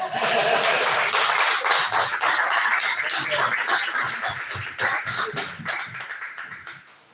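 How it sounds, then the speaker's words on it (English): An audience at a book launch claps for a reader, a moderate burst of applause that gradually thins and fades toward the end. "Give him a round of applause."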